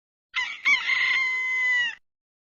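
A rooster crows once, a loud, close, drawn-out cock-a-doodle-doo lasting under two seconds, with a brief break near the start, then silence.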